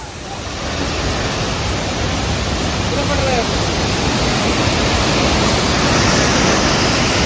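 A waterfall at Paderu rushes in a loud, unbroken roar of falling water, broad and constant, filling the whole scene close by.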